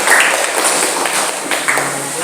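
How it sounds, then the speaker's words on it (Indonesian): Applause from a class audience during a teaching performance assessment, a brief burst of clapping filling the room and fading out over about two seconds. "tepuk tangan"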